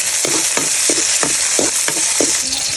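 Garlic, onion and tomato sauté in a frying pan, a loud steady sizzle broken by a rhythmic scraping stir about every third of a second, close by, with no voices.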